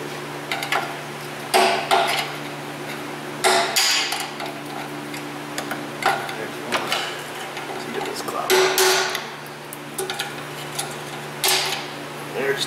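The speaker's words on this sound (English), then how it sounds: "So now I'll go get a pry driver / chisel and we'll try to tap them pieces off." Broken O2 sensor stud pieces on a Toyota 4Runner 3.4 being tapped off with a pry driver or chisel: sharp metallic taps come in irregular clusters over a steady low hum.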